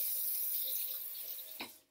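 Water runs steadily from a tap into a plastic bottle being filled to make an all-purpose cleaner, a continuous close hiss that swells briefly near the end and then cuts off.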